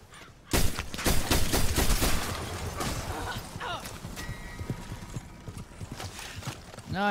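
Horse hooves gallop in the Red Dead Redemption 2 video game, starting abruptly with loud, rapid hoofbeats that continue throughout, with a few sharp impacts over busy game ambience.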